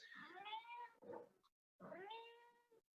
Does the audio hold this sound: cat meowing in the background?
yes